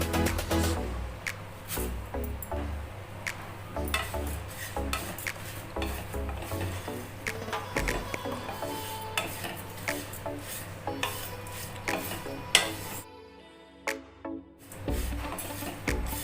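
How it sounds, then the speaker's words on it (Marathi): Flattened rice (poha) being roasted in a pan, a steady soft scraping and rustling as a spoon stirs it, with frequent light clinks of the spoon against the pan, fairly quiet and close, no talking. "आता आपण पोहे भाजून घेऊया,"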